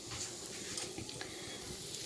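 Spices frying in a pan for an eggplant and potato dish, a soft continuous sizzle with faint stirring scrapes, quiet and close.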